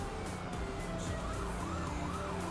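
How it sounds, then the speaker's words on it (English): Wailing sirens mixed into a stream's background music, rising and falling sweeps layered over a steady musical bed, moderately loud with no speech. "why do I hear sirens?"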